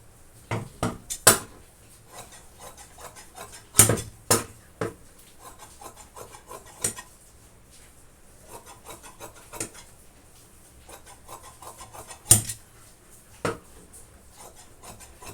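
Scissors cutting blouse fabric on a table produce sharp, scattered snips and scraping rustles, clustered in quick bursts with quiet gaps between, close and fairly crisp.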